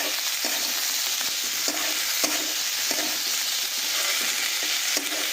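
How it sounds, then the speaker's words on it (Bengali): Prawn heads frying in a pan with onion, garlic, ginger and chilli, a steady close sizzle with occasional stirring scrapes throughout, no voices. "এই চিংড়ি মাছের মাথাগুলো এতে দিয়ে দিলাম। দিয়ে আর এটাকেও খুব ভালো করে আমরা ভাজা করে"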